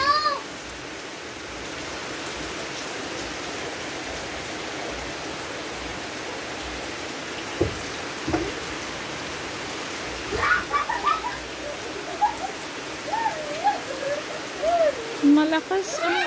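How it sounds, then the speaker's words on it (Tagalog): Heavy rain falls steadily outside a small kitchen and closed shop, a constant broad hiss through the whole stretch, with brief thumps and birdlike chirps breaking in near the end. "Malakas ang ulan."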